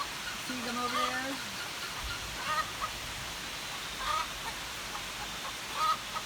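Backyard chickens and guinea fowl call out during heavy rain, giving scattered clucks and squawks at moderate distance over a steady wet background hiss.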